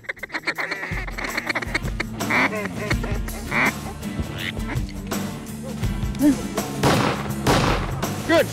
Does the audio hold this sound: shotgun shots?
yes